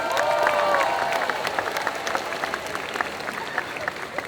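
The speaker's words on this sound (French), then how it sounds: "On applaudit très fort." Steady applause from an audience at a solo cosplay contest at Japan Addict Z 2022, a dense wash of clapping that fades slightly over a few seconds, with a faint voice or whistle near the start.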